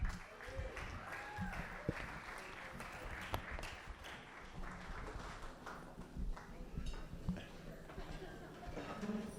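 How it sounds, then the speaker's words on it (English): Audience applause at a wedding reception welcoming the father of the bride, a soft, distant, sustained patter of clapping from the crowd with voices mixed in. "Big round of applause, ladies and gentlemen."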